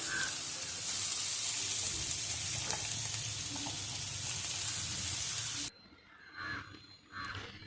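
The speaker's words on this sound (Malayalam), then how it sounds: "ഇതിലേക്ക് ഒരു സവാളയും കുറച്ച് കറിവേപ്പിലയും ചെറുതായിട്ട്, വളരെ ചെറുതായിട്ട് കൊത്തി എരിഞ്ഞത് ചേർത്ത് കൊടുക്കാം." Chopped onion and curry leaves sauté in a hot pan with oil, a loud steady sizzle and scattered stirring scrapes for several seconds, then the frying drops to quieter bursts after the pan is stirred.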